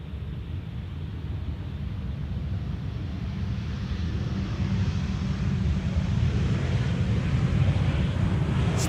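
A 15-year-old airliner, first flown in May 2010, arrives on Schiphol's Polderbaan runway 18R one morning: a steady broadband roar that slowly swells, with no voices.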